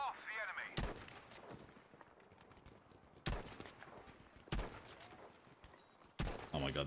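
Sharp, loud gunshots from a gun in Battlefield 5, spaced a second or more apart over quieter background battle noise, with a voice talking at times.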